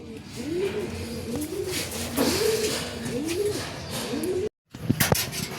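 Racing pigeons returning from a derby race coo repeatedly in rolling, wavering calls close by, followed by a brief dropout and a few sharp knocks or flutters at the end.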